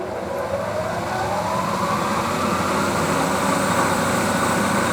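A Clausing 20-inch variable speed drill press running at full speed around 1,500 to 2,000 RPM, giving a loud, steady, unbroken motor and spindle drone with no pauses.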